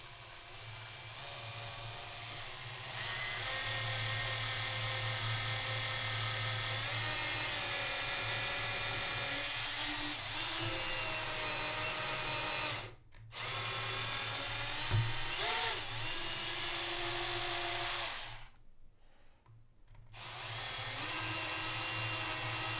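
A power drill boring holes to fit a bridge on a custom kit bass guitar, giving a steady, close, high whine that runs almost the whole time, with two short stops and a slight change in pitch under load.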